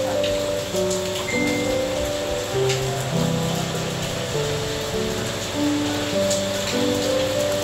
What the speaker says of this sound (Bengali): বেশ জোর বৃষ্টি এসছে।